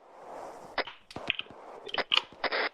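Suppressive gunfire during a team patrol operation in a military video game: a string of sharp, close cracking shots in irregular bursts, fairly quiet overall, with no voices.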